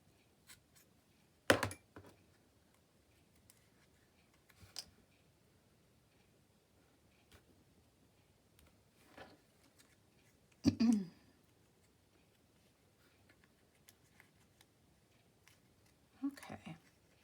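Scissors snip into a paper button dangle tab for a journal, cut left-handed, giving a few sparse, faint, close crisp cuts separated by long quiet gaps.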